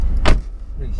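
A car door thuds shut once near the start as someone climbs into a car, followed by a quiet cabin with a low background rumble and faint rustling.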